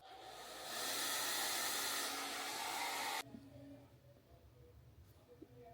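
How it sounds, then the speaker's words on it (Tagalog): A hair dryer switches on and blows with a loud, close, steady airy whoosh for a few seconds, then cuts off abruptly, leaving quiet room noise. "Mag-blower lang ako saglit."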